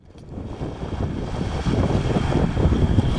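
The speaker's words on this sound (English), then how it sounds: "Windy, so sorry about that." Steady wind on Tudhope Beach buffets the microphone with a low, rumbling roar that builds slightly over a few seconds. No one speaks.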